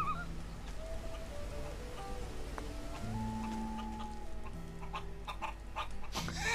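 Chickens in the video game Gothic 3 cluck and chatter in a steady series of short calls over a soft game ambience, with a sharper rustle near the end.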